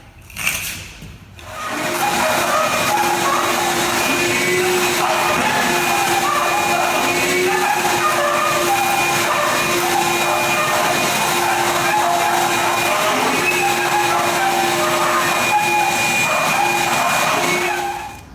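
A loud vacuum cleaner, cleaning dust and debris from floor joints, starts after a brief moment and runs steadily with a constant whine and roar until it shuts off near the end.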